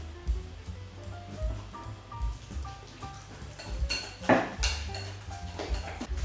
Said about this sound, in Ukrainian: Добре вмішую, тому що дріжове тісто любить, щоб його довго мішали.